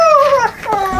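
A dog whimpers close by, giving a second of high, wavering whines that dip and rise again.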